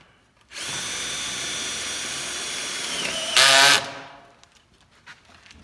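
A power drill whines steadily while boring a hole during a sleeper remodel, then rises into a brief, louder burst as it breaks through before spinning down, followed by a few faint knocks.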